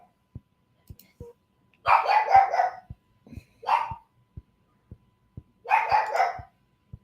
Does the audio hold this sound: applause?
no